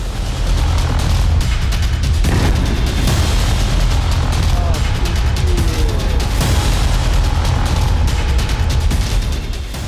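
Explosions from a 2025 Russian attack on Kyiv rumble as a dense, loud, continuous wash of booms and deep low-end noise, with faint whistling tones threading through the steady roar.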